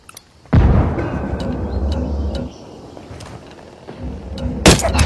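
A frag grenade explodes in the video game Ghost Recon Wildlands: a heavy, booming blast hits after a brief quiet and rumbles on for a couple of seconds, then a sharper second burst cracks near the end.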